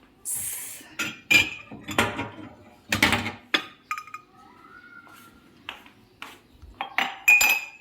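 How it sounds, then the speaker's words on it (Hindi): Tea cups are taken out and handled, with a series of close clinks and knocks of china against a hard surface, irregular and spread out, some sharper ringing touches in between. "चाय के लिए हम लेते हैं ये वाले कप"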